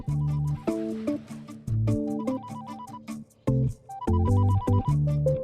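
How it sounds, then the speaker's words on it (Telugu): A phone ringtone plays a repeating electronic melody, loud and close, pausing briefly between phrases. "ఆ ఫోన్ చూడు"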